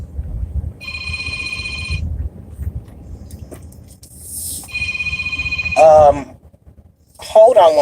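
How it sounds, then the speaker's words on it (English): A phone rings with repeated electronic tone bursts for an incoming call, two long ringing spells over steady background noise, and speech breaks in near the end. "I have a phone call."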